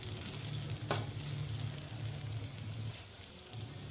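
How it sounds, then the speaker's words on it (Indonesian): Sliced onions stir-frying in a pan with pakchoi and egg dishes in progress, a soft steady sizzle with light scraping of the stirring utensil and one brief clatter, faint and close, with no voices. "Lanjut saya masukkan bawang bombaynya, saya aduk-aduk kembali atau saya tumis kembali semuanya."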